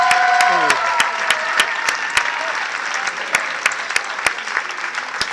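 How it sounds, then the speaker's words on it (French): An audience at an evening contest event claps loudly and steadily for the first-place winner, a dense sustained applause with a brief vocal tone at the start. "on peut l'applaudir très très fort s'il vous plaît"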